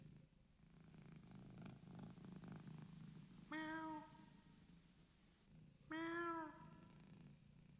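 A cat lying on a quilt purrs softly and steadily, with two louder, drawn-out meows breaking in partway through, close and quiet overall.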